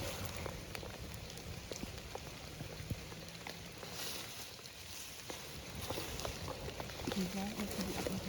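Faint, steady rain patters on a surface with scattered individual drop ticks, quiet and continuous throughout.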